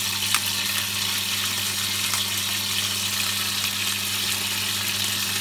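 Cream dory fish frying in a pan, a steady close sizzle with fine crackling that holds evenly throughout, alone without talk.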